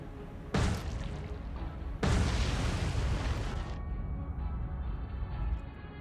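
Naval shells from a warship's gun salvo explode on target in the War on the Sea naval combat game, two loud booming blasts with a long rumbling tail and no talk over them.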